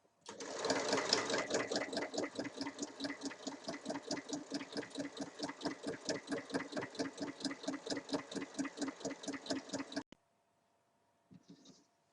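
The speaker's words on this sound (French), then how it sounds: "on commence à coudre dans une couture de côté, on fait tout le tour et on revient dans nos points de départ." A sewing machine runs a steady, fast rhythmic stitch for about ten seconds, hemming a light summer dress, loud and close, then stops abruptly into near silence with a faint click at the end.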